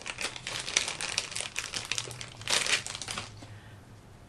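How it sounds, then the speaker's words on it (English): Micropore tape is handled at a craft table while making a paper hibiscus flower, giving close, soft crinkling and rustling in uneven bursts with a brief louder crackle near the middle. "We'll do the micro pore tape one first."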